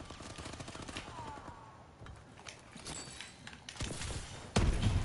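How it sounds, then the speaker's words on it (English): Gunfire from the game Call of Duty: Advanced Warfare crackles in quick bursts, mostly distant and faint, with one louder, nearer volley near the end. "Was somebody just shooting at me?"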